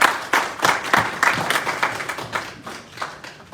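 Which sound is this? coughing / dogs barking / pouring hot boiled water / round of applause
round of applause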